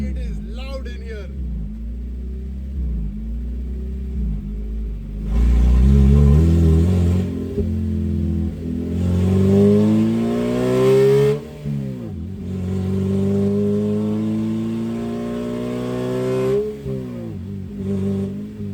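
Modified mid-engined Suzuki Swift drift and autocross car, engine heard from inside the cabin: idle burble, then loud revs rising and falling in repeated sweeps, with a voice talking over it at times.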